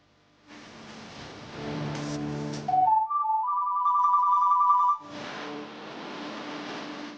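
On an outgoing phone call, a short electronic ringing melody of stepped rising tones plays clearly between louder stretches of background sound.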